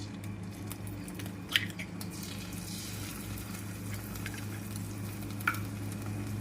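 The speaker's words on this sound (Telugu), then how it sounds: "గార్లిక్ పేస్ట్ వేసుకొని పచ్చివాసన పోయే వరకు వేయించుకోవాలి." Garlic paste fries in a pan for spicy egg rice, giving a steady, close sizzle throughout with a couple of brief clinks from stirring.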